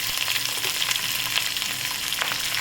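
Green chillies, onion and coriander fry with a dense, continuous sizzle in a pan, close and fairly loud, with faint stirring throughout.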